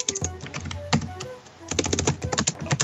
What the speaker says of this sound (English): Yeah, I hear some typing.